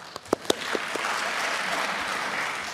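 Applause from the audience at a faculty convocation: a few sharp early claps swell into a sustained, even burst of clapping from a seated crowd.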